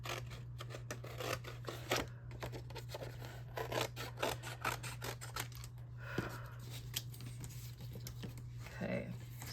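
Scissors cut card while a stitchable Christmas card is being made. Quiet, close snips and rustles of the card sound repeatedly over a steady low hum.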